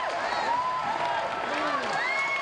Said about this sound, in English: This is the crowd here at Haas Pavilion.